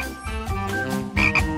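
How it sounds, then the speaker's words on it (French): A frog gives a few quick, close croaks in a short burst, with no other sound around it. "Qu'est-ce que c'est que ça? Une grenouille dans l'avion?"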